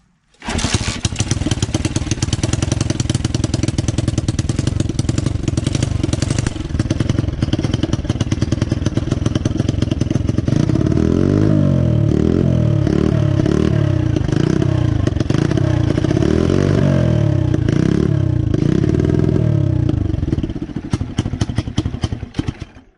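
A dirt bike engine with a stuck throttle cable runs loud and close, staying high and rough at a constant rev with a mechanical clatter and deeper throbbing pulses midway before it cuts off.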